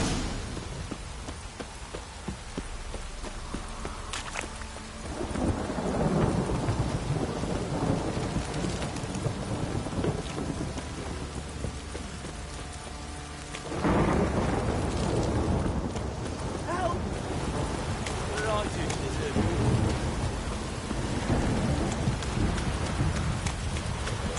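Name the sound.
heavy rain and thunder, video game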